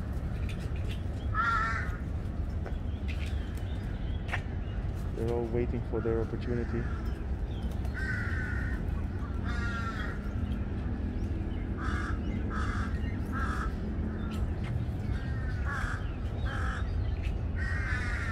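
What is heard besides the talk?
crows cawing in Lumpini Park, Bangkok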